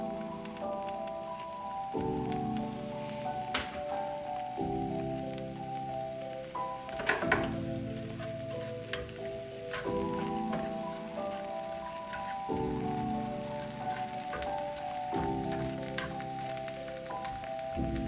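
Onions added to melted butter in a pan crackle with a soft, rain-like patter that runs steadily under louder background music.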